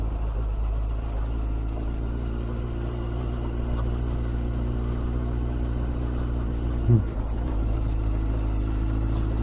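Motorbike ridden along bumpy roads on the Lossiemouth Triangle, a steady low engine drone with wind rush, constant and close, with one brief thump partway through.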